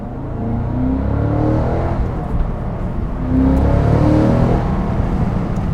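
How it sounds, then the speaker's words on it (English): A 2022 Cadillac CT5-V Blackwing exhaust revs loudly and steadily up close, a deep rumbling drone that swells and rises in pitch midway, with no voices. "Oh, that exhaust is just incredible"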